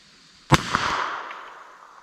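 A single sharp gunshot from a .32 S&W Long revolver with a 4.2 inch barrel, fired outdoors at a 75 yard target, followed by a long fading echo rolling across the range.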